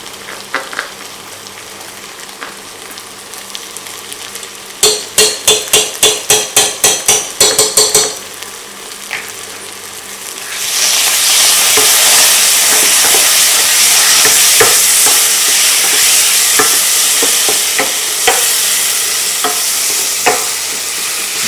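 Galangal roots and ginger stirred in a hot pan for a curry, with a burst of sharp clattering utensil strikes early on, then a steady loud sizzle of frying filling the rest.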